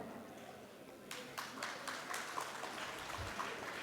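An audience claps at a Diwali cultural programme, scattered hand claps starting partway through and building into steady, moderately distant applause in a hall.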